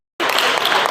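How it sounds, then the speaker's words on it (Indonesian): Audience applause at an Indonesian school teachers' session bursts in abruptly after a moment of silence, then holds as steady, dense clapping from a roomful of people. "Tepuk tangan untuk Pak Aki"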